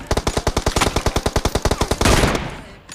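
Sustained automatic M249 machine gun fire in a video game, a rapid even burst of about twenty loud close shots over two seconds, then a rumbling blast-like tail that fades out.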